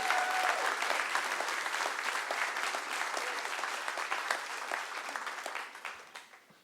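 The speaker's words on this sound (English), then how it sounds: "Give these guys a round of applause." An audience at a live show in a theater applauds, a dense, sustained wash of clapping that holds steady for several seconds before gradually fading out at the end.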